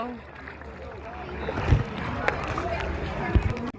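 A small boat heading into a cave near Phuket gives a steady engine and water rumble with occasional splashes and bumps, under people talking nearby.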